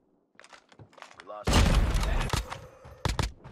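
Automatic sentry gun firing in COD Mobile, a loud sustained burst of gunfire lasting about two seconds, followed by a couple of sharper shots, with talk over the opening moments.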